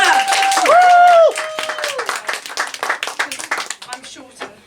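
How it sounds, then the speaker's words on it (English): An audience at a poetry fundraiser event claps and cheers for a poet, with loud whoops and voices at first, then scattered uneven clapping that thins out. "Louder, bring louder applause."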